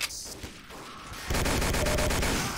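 Rapid gunfire from a soldier's gun in a military shooter game set in a town assault, starting with quieter scattered shots and then breaking into a loud, sustained burst of automatic fire.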